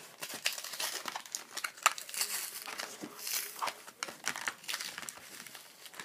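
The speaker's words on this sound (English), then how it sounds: "So bear with me while I get it out of the plastic." A Pokemon card blister pack is pulled free of its plastic packaging, giving close, quiet crinkling and crackling in irregular bursts, with occasional sharper snaps and tearing.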